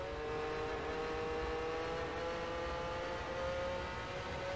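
A Porsche 906 engine in an Assetto Corsa mod drones steadily with a faint wavering jitter in its tone, a continuous moderately quiet hum with no talking.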